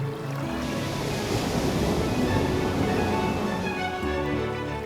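Ocean surf rolling and breaking along the shore of Christmas Island, a steady loud wash of water with some wind, continuous with no break.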